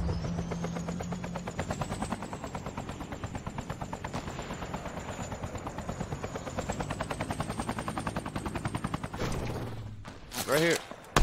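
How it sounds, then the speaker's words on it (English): Rapid automatic gunfire in an online shooter video game, a long sustained burst of evenly spaced shots under a steady whine, ending with a short jumble of game effects. "He's firing at me right now"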